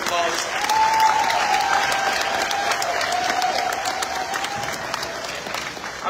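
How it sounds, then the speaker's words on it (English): Steady applause from an audience at an elementary school promotion ceremony, with dense clapping throughout and a faint voice or whistle carrying over it. "And we give her a round of applause."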